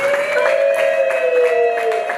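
Guests at a Rwandan wedding ceremony clap in a quick, rhythmic beat over a sustained high tone, lively and close for a couple of seconds.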